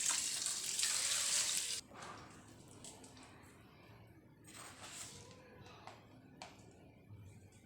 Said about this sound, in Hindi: राइस डालने के बाद मैंने जो चिकन बॉईल किया वो पानी डाल देंगे